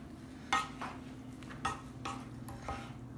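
A spoon scrapes and clinks against a pan while stirring a chorizo mixture with the heat turned off, several quiet irregular knocks and scrapes close by over a faint low hum.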